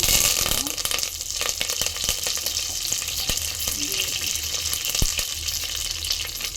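Curry leaves and mustard seeds sizzle and crackle steadily in hot oil for a village-style chicken curry, a continuous close frying hiss with a few sharp pops and no talking.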